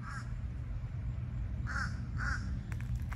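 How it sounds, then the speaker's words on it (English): Crows caw in a yard with tropical palms, giving several harsh calls in short bursts at moderate distance over a steady low background rumble. "These crows are losing their minds."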